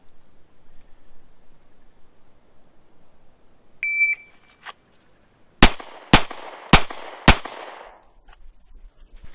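A shot timer's electronic beep followed by four loud, sharp handgun shots fired from concealment at 5 yards, spaced about half a second apart, each ringing out with a short echo on an outdoor range.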